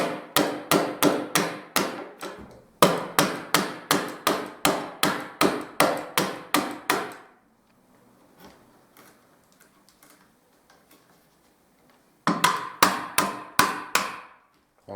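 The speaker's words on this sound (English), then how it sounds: "Again, tapping it, because any damage may occur around this area on the woodwork." Victorian rim lock being gently tapped loose from surrounding woodwork with a hammer: two long runs of sharp, evenly spaced knocks, close and loud, then a quiet pause with faint rustling before the tapping resumes.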